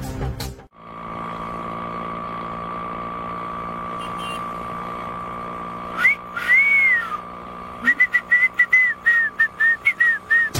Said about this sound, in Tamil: ஒரு எஸ்ஐ முன்னாடியே விசில் அடிக்கிறியா?